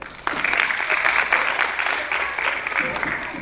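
A theatre audience at an accessibility screening session of a film festival breaks into steady applause, a dense wash of many hands clapping that starts suddenly and keeps an even level throughout, with some voices mixed in.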